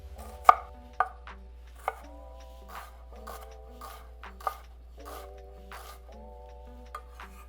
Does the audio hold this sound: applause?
no